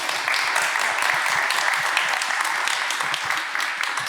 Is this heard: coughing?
no